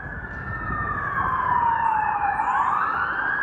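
A wailing emergency siren rises and falls over a steady low rumble of city traffic on Jarvis Street near Moss Park, downtown Toronto, fairly loud and continuous.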